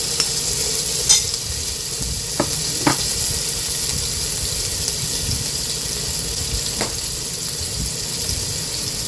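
Pounded paste dropped into hot oil for a shrimp and water spinach sour soup, giving a constant loud sizzle with a few sharp clicks from the spoon.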